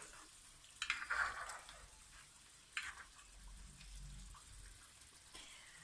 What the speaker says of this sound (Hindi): इनको 1 से 2 मिनट तक मसाले में ऐसे इस तरह से हम इसको भूनेंगे।